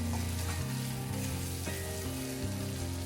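Brinjal with green chili and ginger garlic paste sizzling loudly in a pan for a brinjal and prawn curry, a steady close crackle with no talking.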